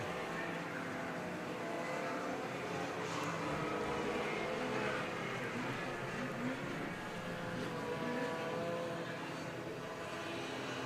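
A Honda race car roars down a drag strip past the finish line, a steady, fairly distant engine drone that holds evenly throughout.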